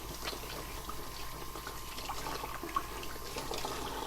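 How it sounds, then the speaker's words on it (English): Kitchen tap running steadily as hands are washed during meatloaf and mashed potato cooking, a continuous close hiss of flowing water with no talking. "let me wash my hands."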